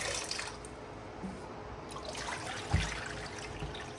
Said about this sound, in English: So I'm pouring the vinegar over the chicken.